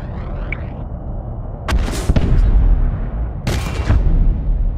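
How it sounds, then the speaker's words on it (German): Explosions and gunfire in a video game, with broadband blasts bursting out of a steady background of game noise around the two-second mark and again near three and a half seconds, loud and close. "Explodiert denn da eigentlich die ganze Zeit?"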